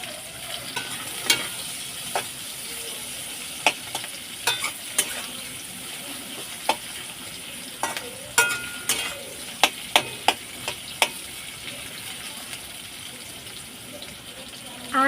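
Whole garam masala, green chilli and chopped onion frying in a pan, with a low steady sizzle broken by sharp, irregular spoon clicks and scrapes against the metal.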